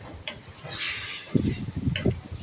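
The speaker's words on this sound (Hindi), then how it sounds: "अब इसको हम दोबारा से भूनेंगे" Taro and chicken sizzle in masala in a cooking pot, with a soft frying hiss broken by scraping stirs and a few clattering knocks of a spoon against the pan in the second half.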